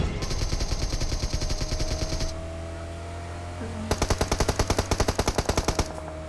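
Automatic gunfire in the mobile battle-royale game PUBG Mobile: two long bursts of rapid, evenly spaced shots separated by a short pause, loud and close over a steady vehicle engine hum.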